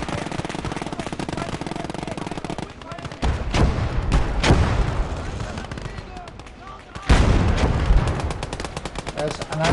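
Mortar and gunfire in the Close Combat war game come as loud, close bursts of rapid shots and heavy thumps, with dense rattling passages broken by a short lull.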